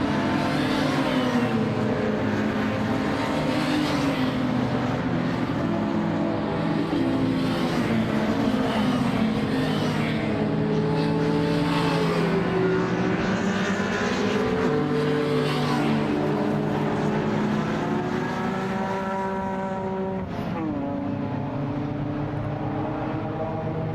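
Race cars lap Silverstone during Saturday qualifying, engines droning continuously with overlapping rising and falling whines as cars pass near and far, loud and unbroken for about twenty-four seconds with no talk.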